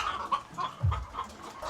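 Egg-laying hens from a batch of about 320 layers on a farm, with soft repeated clucking at a moderate distance and a low thump partway through.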